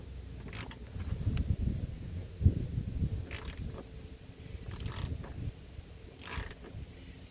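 Wrench working a fender nut on a Mustang GT, a series of close ratcheting clicks and metallic creaks in short bursts with a few sharper taps, fairly quiet and without talking.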